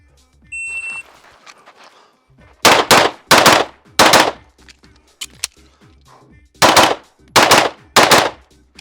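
A shot timer beeps, then a compensated Archon pistol fires two fast strings of four sharp, loud cracks each, with a short pause between strings.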